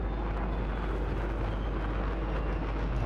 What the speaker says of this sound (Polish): Dobra, mam samolot.